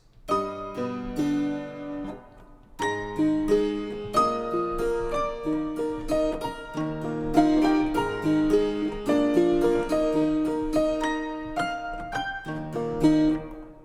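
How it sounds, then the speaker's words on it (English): A Keyscape keyboard instrument plays a flowing sequence of plucked chords and melody notes, each ringing out into a long reverberant tail, with no speech. "I love a really good reverb with these instruments."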